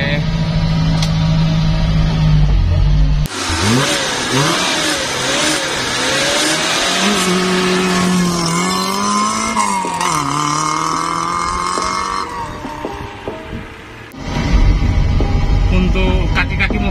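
A 1973 Toyota Corona engine hums and revs while driving, rising and falling with gear changes, loud and close, with a quieter cabin hum at the start and end.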